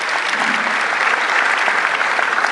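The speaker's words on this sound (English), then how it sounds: "People are clapping." An audience at an evening science talk claps steadily, a dense, even wash of many hands that carries on without a break.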